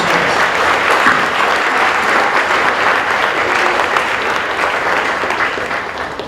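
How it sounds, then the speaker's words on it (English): Sustained applause fills a hall as an audience claps for an award winner at a school presentation day, a steady, dense wash of hands that stays loud throughout with no talking. "So perhaps another round of applause for Minha and also yourselves."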